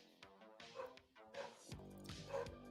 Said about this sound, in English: There's my dog barking.